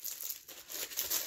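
Packaging crumpled by hand during an unboxing: close, continuous crinkling and rustling of thin material, with short pauses, with no voice.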